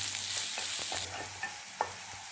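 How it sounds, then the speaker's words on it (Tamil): Finely chopped small onions sauté in a pan with a steady close sizzle, punctuated by light scraping taps of stirring, with no voices. "வெங்காயம் நல்லா வதங்கட்டும்."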